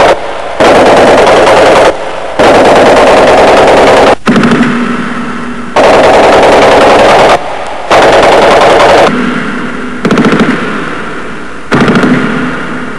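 Archival machine gun fire from the era of New York bootleggers, heard as loud sustained bursts of rapid shots separated by short gaps, with no talk.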